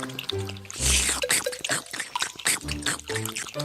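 Cartoon frogs drink water on a big leaf, heard as a busy string of close, bright drips and plops mixed with squeaky, bouncy cartoon sound effects and short musical tones.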